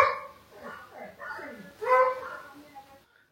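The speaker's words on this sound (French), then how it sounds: "au moins il n'a pas trop aboyé" A pet dog in a home garden gives a few short yips and whimpering whines, close and moderately loud, in uneven bursts before fading to quiet.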